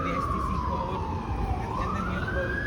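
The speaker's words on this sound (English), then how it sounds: "you can hear sirens responding" A wailing siren sweeps slowly down and back up in pitch over steady road rumble, sounding some distance away.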